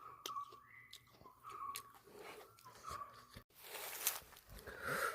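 Sour bilimbi fruit bitten and chewed outdoors in a rubber plantation, a close series of soft wet bites and chews, quiet with no talk.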